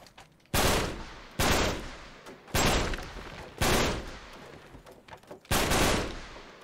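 Five loud, sharp gunshots from the video game Uncharted 3, spaced roughly a second apart, each with a short decaying tail over quiet background ambience.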